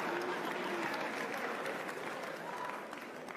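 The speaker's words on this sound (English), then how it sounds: "What you guys are applauding for?" Large conference audience clapping steadily in a hall, a dense wash of applause that gradually thins and softens toward the end.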